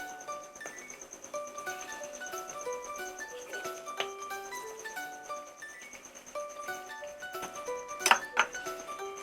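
Steel utensils clink and scrape against a pan while vegetable fried rice is stirred after salt goes in, a steady run of close metallic taps with a louder clatter near the end.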